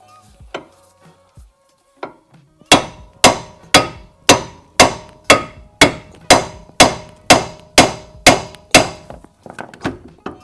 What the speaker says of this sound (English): I'm gonna try to blast this lower ball joint and see if it'll come out.